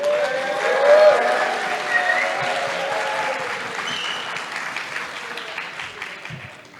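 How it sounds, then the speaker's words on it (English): A conference audience claps and cheers loudly at a request from the stage, a dense burst of applause with whoops and whistles that peaks early and slowly tapers, with voices mixed in. "can I get like a big cheer"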